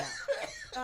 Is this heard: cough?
yes